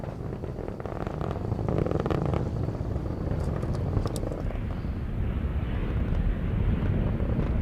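An Atlas V rocket with its RD-180 engine roars during ascent toward max Q while launching the Solar Orbiter probe, a continuous broad low rumble with wind buffeting and faint crackle, steady and distant.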